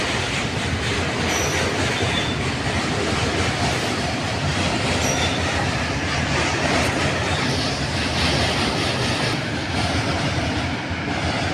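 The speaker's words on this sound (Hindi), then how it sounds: "और ट्रेन जा चुकी है" A train runs close by, a loud and steady rumble with rhythmic clickety-clack of wheels over rail joints and occasional thin wheel squeals, filling the whole stretch without any voices.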